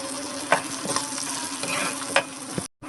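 Onions frying with bay leaves in a pan make a steady sizzle, with a few short scraping stir strokes breaking in near and close up.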